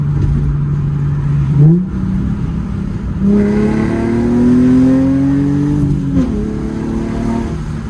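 An Infiniti G35 engine revs hard, pitch climbing steadily through second gear, with a brief dip at a shift before pulling again; loud and close, no talking.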